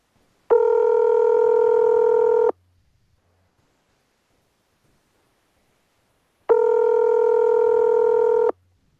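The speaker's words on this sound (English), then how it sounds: "we'll see if Harry Smith answers the phone" A telephone tone sounds twice, each a steady two-second electronic beep at the same pitch, loud and clear, with silence between the two.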